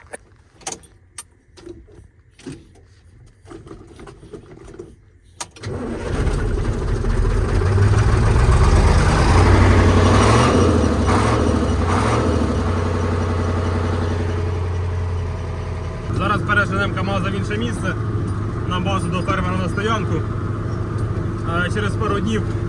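A vehicle engine cranks and catches after a few quiet seconds of talk, then settles into a loud, steady idle that runs to the end, with brief voices early on.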